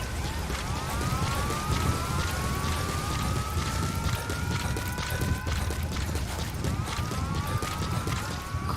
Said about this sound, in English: Caution, rain approaching.